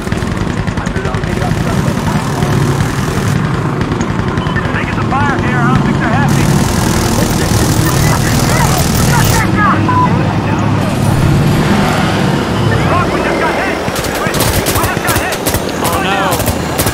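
A helicopter rotor drones steadily in the Insurgency Sandstorm video game, heard beneath heavy bursts of machine-gun fire and other gunshots during a co-op match, with players talking over it throughout.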